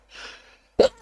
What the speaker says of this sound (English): Sorry about sneezing.